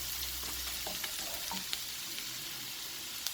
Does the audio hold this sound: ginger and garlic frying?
yes